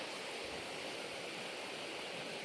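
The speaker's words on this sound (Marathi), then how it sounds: "एकदम भारी पाणी पडते वरून." Water falls from above inside a rock-cut cave at Pitalkhora, a steady broadband hiss and roar that stays constant and fairly distant, with no voices.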